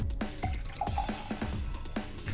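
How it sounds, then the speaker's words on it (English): A yellow energy drink splashes and trickles as it is poured out, a run of quick wet drips and glugs in a quiet room with no talking. "let's pour some out and see what it looks like"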